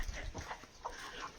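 A dog on a farm makes a few short, faint whimpering yips amid outdoor background noise.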